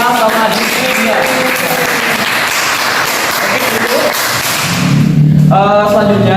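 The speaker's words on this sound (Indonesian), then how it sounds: "Tepuk tangan dong untuk Giska sama Giska." A classroom group claps for two students, a loud, dense burst of applause that carries on steadily, with voices chattering through it and a speaking voice rising over the clapping near the end.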